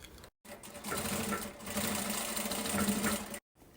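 A sewing machine runs in one continuous burst of about three seconds, stitching a children's 3D backpack closed, with a steady close whir and a short pause before and after.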